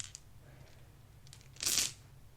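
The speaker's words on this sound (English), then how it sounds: "I'm going to take the dice out of the bag for just a second, so you can hear the" A brief soft rustle of a velvet dice bag, a quick crinkly swish lasting about a third of a second over a quiet background.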